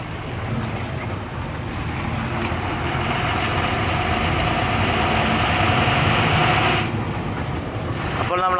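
An Ashok Leyland truck engine rumbles loud and close at a steady idle while reversing, then the sound shifts and drops near the end.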